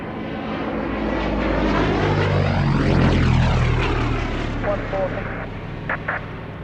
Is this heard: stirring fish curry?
no